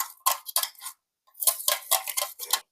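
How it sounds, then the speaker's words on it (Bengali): Dry fruits get stirred into lassi, with a spoon clinking and scraping against the glass in two quick bursts of rapid taps separated by a brief pause, close and moderately loud. "এবারে এটা একটুখানি মিশিয়ে দেব"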